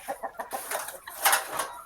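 Ornamental fancy hens in their coop cluck in quick bursts, close and moderately loud, with a rapid run of short clucks followed by a louder squawk and a few more calls.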